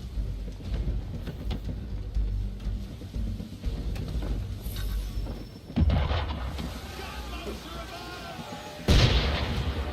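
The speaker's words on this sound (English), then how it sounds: "Why is he shooting at us?" Cannon fire aimed at a ship in Assassin's Creed III: heavy booming blasts land around six and nine seconds over a continuous rumbling backdrop of sea and battle noise, with voices mixed in.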